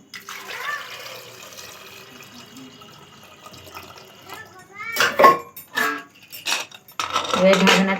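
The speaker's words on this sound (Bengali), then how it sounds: "এবারে দিয়ে দিচ্ছি জল।" Water pours softly into a cooking pot holding chickpeas, a gentle trickling hiss under a quiet voice, followed by louder metallic clatter of the pot and utensils as someone talks.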